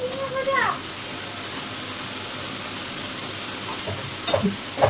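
Steady sizzling of shrimp and ash gourd frying in a hot pan fills the clip, with brief voices at the start and near the end.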